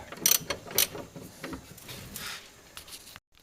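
Ratchet turning a bolt on the rear upper control arm of a 2002 Honda Civic, giving a few quick clicking bursts and metallic ticks at close range, then dropping to silence.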